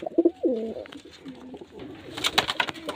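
Pigeons coo close by in a few soft, rolling calls, followed by a brief burst of fluttering or rustling.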